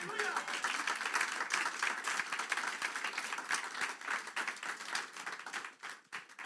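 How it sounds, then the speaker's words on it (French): A congregation claps for the Lord during a French-language sermon, steady crowded applause close by that thins toward the end, with some voices mixed in. "Est-ce qu'on peut applaudir le Seigneur?"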